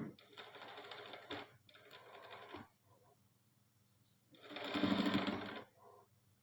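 A sewing machine stitches a kaftan nighty in several short bursts, two close together at the start and a louder run near the end, each a quick rattling whir with brief pauses between.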